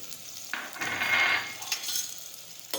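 Chopped potatoes and shelled peas dropped into a hot pan with chopped tomatoes, a sharp sizzle swelling up after a soft clatter, then settling into steady frying with a few small stirring knocks.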